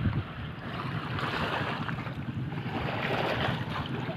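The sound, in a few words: waves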